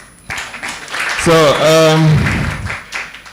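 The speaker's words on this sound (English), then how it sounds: "please give a warm applause to all the participants." An audience applauds participants at an international seminar at Universitas Al-Azhar Indonesia, a steady broadband clatter throughout while a speaker's drawn-out voice rises over the middle.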